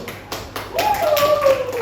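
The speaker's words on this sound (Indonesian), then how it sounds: "Tepuk tangan dulu." Classroom of students clapping their hands, a few distinct claps at first building into a short burst of group clapping, with a voice speaking over it.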